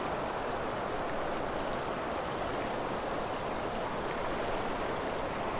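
Stream water flows steadily, a loud, dense rushing wash that holds unbroken from start to finish with no voices over it.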